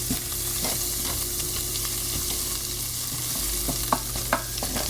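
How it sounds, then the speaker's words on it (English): Butter melting in a pan for gravy, with a soft steady sizzle under faint scraping from a wooden spatula, a couple of sharper clicks near the end; close and continuous, no talk. "put in a couple tablespoons of butter and let that melt"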